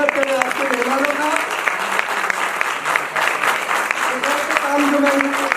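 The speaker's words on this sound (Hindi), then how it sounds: "जोरदार तालियों से स्वागत करें आपके मेहमानों का।" Audience applause welcoming guests onto a stage at a Hindi show, steady dense clapping throughout with a voice speaking over it.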